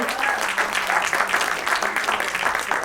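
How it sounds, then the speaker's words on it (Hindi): An audience applauds for actor Raghubir Yadav, a loud, dense burst of clapping with a pulsing, crowded texture throughout. "तो जोरदार तालियां हो जाए रघुवीर यादव जी के लिए"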